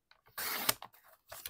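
Paper being cut to size with a blade or trimmer, a short rasping cut with a few small clicks and a brief second scrape, close and fairly quiet.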